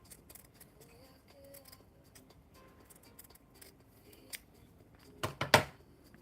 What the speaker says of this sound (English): Now I'm going to cut around the 4 centimeter